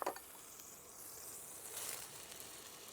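Chopped onion sizzling softly in a hot paella pan for seafood paella, a faint steady frying hiss that swells briefly near the middle, with no talking.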